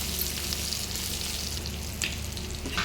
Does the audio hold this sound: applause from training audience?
no